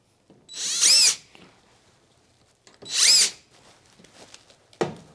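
Power drill driving screws to fasten a Hauslane UC-PS38 range hood: two loud, close whirring bursts about two seconds apart, with quieter handling clatter between them and a sharp knock at the end.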